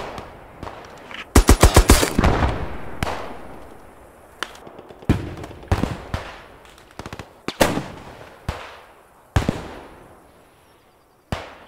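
Machine gun fire in a WW2 shooter game, heard as irregular bursts and single sharp shots, some close and loud, others more distant, scattered across the scene with a tight rapid burst early on.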